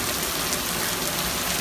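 Steady rain falls in Las Vegas after a spell of hail, a dense, even hiss of drops pattering on surfaces with no voices.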